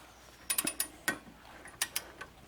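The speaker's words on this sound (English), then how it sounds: "we got our torque wrench here set to 125 foot-pounds" A torque wrench set to 125 foot-pounds tightens the wheel lug nuts on a Corvette during a brake rotor replacement, giving several sharp, close ratcheting clicks in small clusters against a quiet background.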